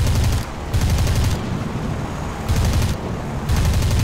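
Aircraft machine guns in War Thunder arcade air combat, loud rattling bursts fired in four or five repeated volleys with short gaps between them.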